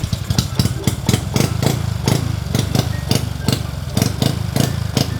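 A motorcycle fitted with an aftermarket exhaust idles close by with a rough, loud, evenly pulsing beat that repeats steadily through the whole stretch.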